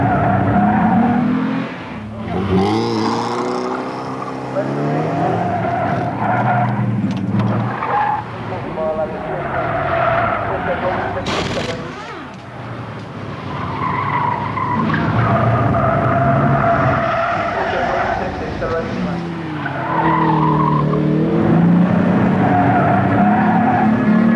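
A car on Yokohama tyres skids hard, with loud, repeated tyre squeals and engine roar rising and falling across a long run while people talk in between.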